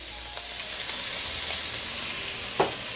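Julienned onion hits hot oil in a brazier and sizzles, a steady close hiss of frying with a few small clicks and one brief louder stir near the end.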